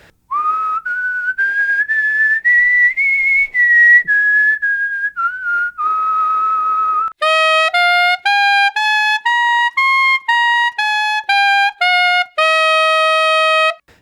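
Clear, loud whistling of a sustained, gliding high melody, followed by a run of distinct stepped notes, each held briefly.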